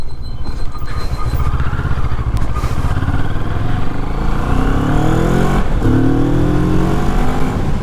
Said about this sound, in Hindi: इसका एग्जॉस्ट नोट आपको सुनाई देता है, दूर तक सुनाई देता है